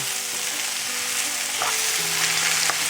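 Okra and onions frying in a pan for bhindi pyaz masala while powdered spices are spread over and mixed in, giving a steady close sizzle with light stirring scrapes throughout and no talking.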